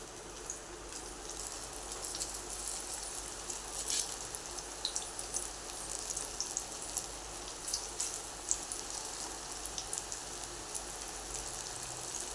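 Corn bhaji (makka bhaji) batter fries in hot oil, a continuous close sizzle like light rain with frequent tiny pops and crackles throughout and no voices.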